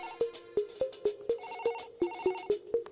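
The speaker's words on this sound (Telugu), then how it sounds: "ఫోన్ మోగుతుంటే ఎవరు తీరేంట్రా?" A telephone rings in a steady, rapid series of bright electronic tones, close and clear with no voices.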